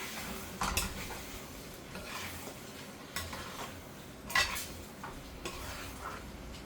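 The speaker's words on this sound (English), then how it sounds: "I'm going to throw my rice in there" Cooked, washed rice dropped and stirred into a simmering pot of rice and pigeon pea soup, faint low bubbling with scattered spoon scrapes and knocks against the pot, a few louder clinks.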